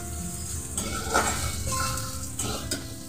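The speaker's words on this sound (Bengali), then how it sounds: "দেখো রসুনটা ভালো করে ভেজে নিচ্ছি। এইবার দিয়ে দেবো পেঁয়াজটা," Chopped onion hitting garlic already frying in a pan, giving a steady sizzle with a few clinks and stirring scrapes from a utensil against the metal, close and moderately quiet.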